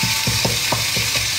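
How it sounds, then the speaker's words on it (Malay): Nasi goreng stir-fries in a pan with a constant loud sizzle. Rhythmic scraping strokes of a spatula or ladle sound about every quarter second over the frying. "Masak nasi goreng."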